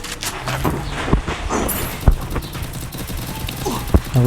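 Bursts of gunfire from a fight in the video game Free Fire, scattered sharp shots and rapid volleys at mid distance with no voices over them.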